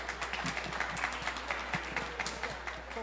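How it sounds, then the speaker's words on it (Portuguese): An audience at a book fair in Frederico Westphalen applauds a writer, a quiet, distant patter of scattered claps over a low steady hum. "Vanessa Sila, para os aplausos de vocês."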